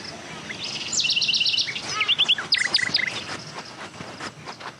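Bird chirping in the accessible mobile audio game Sonar Islands: quick bursts of bright, repeated chirps, a longer run followed by shorter clustered calls, fairly close and clear over a soft background hiss.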